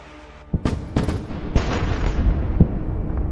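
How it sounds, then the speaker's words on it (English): A BM-21 Grad rocket launcher fires a salvo: a series of sharp, loud launch blasts in quick succession, each followed by a rushing roar that builds into a continuous thundering wash. "This BM-21 Grad is currently launching a salvo at the positions of the armed forces of Ukraine."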